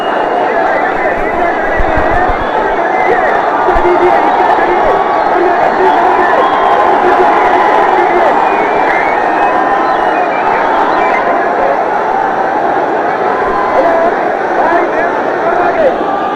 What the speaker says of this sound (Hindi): बहुत बड़ी भीड़,